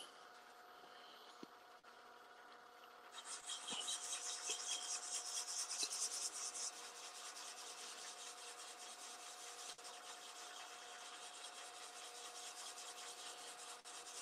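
Sandpaper of 120 grit rubbing a spinning turned pen blank on a lathe, a steady rasping hiss that swells and stays constant over the low machine hum.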